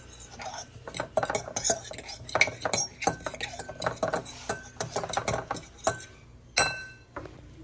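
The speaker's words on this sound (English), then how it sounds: "Mix everything together." Seasonings for hickory-smoked pulled pork, including adobo and red chili flakes, are stirred together in a bowl, with rapid clinks and scrapes of a utensil against the dish in an irregular, close rhythm.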